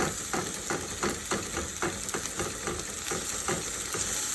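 Ground turkey cooking in a pan makes a loud, constant sizzle up close, cut by a quick regular rhythm of spatula scrapes and taps, with nobody speaking.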